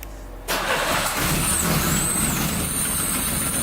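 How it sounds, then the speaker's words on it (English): A 1985 Pontiac Fiero GT catches on its first start attempt after sitting as a project car, bursting into a loud, steady idle after a brief near-silent moment, with a faint high whine riding on top. "We're gonna try starting it first time."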